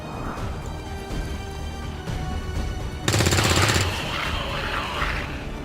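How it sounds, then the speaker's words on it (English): XCOM 2: War of the Chosen combat gunfire in a turn-based tactical battle: a loud rapid automatic burst erupts partway through over ongoing game ambience and background music, followed by a lingering rumble. "If we are careful with our shots, we will prevail."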